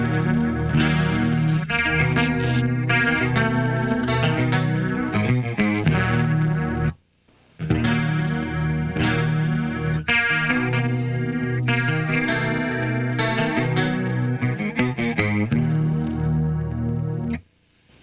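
Clean electric guitar with a chorus-effect shimmer plays a riff, loud and close, with continuous picked string-skipping note patterns in two long phrases separated by a brief pause.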